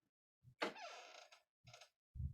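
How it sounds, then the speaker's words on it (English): A door creaks open in a drawn-out, wavering groan after a couple of soft knocks, followed by short thuds, close and isolated in a quiet room. "The door creaks open."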